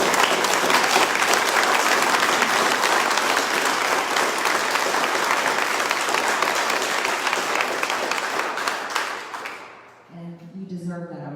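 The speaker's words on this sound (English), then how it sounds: "you deserve that applause" Loud, sustained audience applause for truck drivers at a political town hall, dense clapping that fills about nine seconds before fading abruptly into a voice.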